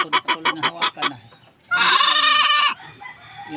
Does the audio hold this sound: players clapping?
no